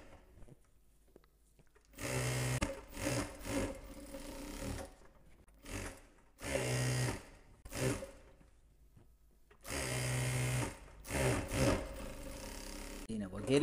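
Sewing machine stitching the hem of palazzo pants, running in several loud, steady bursts separated by short pauses, with someone talking between runs.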